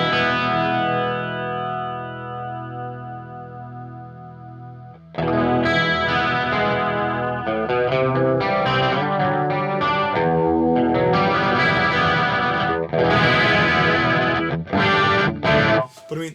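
Guitar run through a tape echo unit with chorus engaged and intensity turned down, clean amp; a sustained chord rings and fades, then busy strummed and picked passages fill the rest, loud and close with echo trails, no talk.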